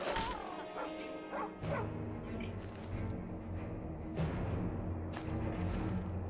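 Dog barking in Skyrim, several sharp barks and yips at irregular intervals over a dense game soundscape of rumbling and clattering effects, with no speech.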